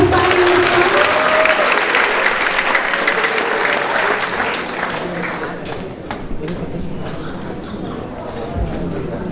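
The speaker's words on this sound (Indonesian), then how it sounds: "Beri tepuk tangan." Loud, sustained applause from an audience at an Indonesian school event as guests are welcomed onto the stage, dense clapping filling the room and slowly thinning toward the end.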